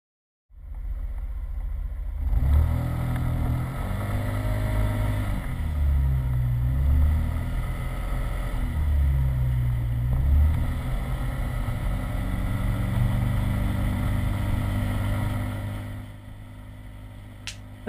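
A Honda PCX125 scooter ridden with a GoPro Hero2 mounted on it, its engine droning steadily as it accelerates and eases off in several swells, with wind rushing over it before it fades near the end.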